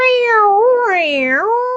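A person's voice imitates a long, drawn-out cat meow, rising and falling in pitch, loud and close.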